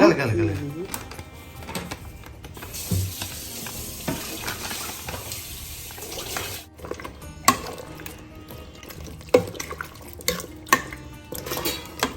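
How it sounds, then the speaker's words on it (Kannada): Eggplant and other ingredients mixed with sambar powder in a pan, with a low sizzle under scraping spoon strokes and occasional metallic clinks, while people talk. "ಇಷ್ಟನ್ನೆಲ್ಲ ಮಿಕ್ಸ್ ಮಾಡೋಣ"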